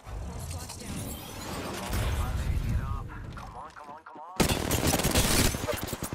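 Rapid gunfire bursts crackle in Apex Legends, with dense volleys and a short pause before the shooting resumes, while someone speaks over the action.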